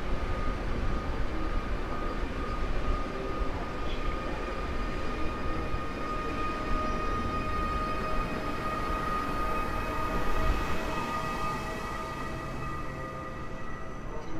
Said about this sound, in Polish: Rusza pociąg międzynarodowy Chopin.